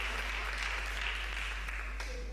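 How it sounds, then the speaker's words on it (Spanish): Applause rises in a church during a Spanish-language sermon, a thin, steady patter running the whole time beneath a low hum, with a preacher's voice faintly present. "Una sola que aplaude."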